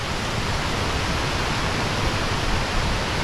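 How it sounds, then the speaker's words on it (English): Little Wilson Falls, a large waterfall on the Appalachian Trail, pours in a steady, loud, unbroken rush of water heard close up with no voices. "Little Wilson Falls, biggest waterfall along the AT."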